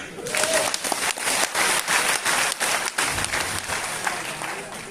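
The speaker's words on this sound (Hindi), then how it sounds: "जोरदार तालियां" Loud, sustained applause from a large audience at a motivational coaching seminar, dense clapping that swells and dips slightly throughout with a voice faintly underneath.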